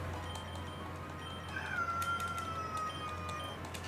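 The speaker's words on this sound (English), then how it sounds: "That was such a loud meow." A cat lets out a single drawn-out meow that rises and then slowly falls, sounding thin and fairly clear over a constant low background hum.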